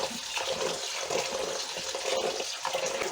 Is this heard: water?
yes